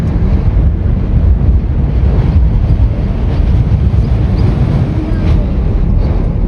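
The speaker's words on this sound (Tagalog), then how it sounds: "Because it's so windy." Strong mountain wind in the Canadian Rockies around Banff and Yoho roars steadily across the microphone, a dense, loud, low buffeting rumble that never lets up for the whole stretch.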